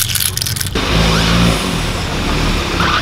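A car engine idles and revs up close by, a steady rumbling drone after a brief burst of broadband noise at the start.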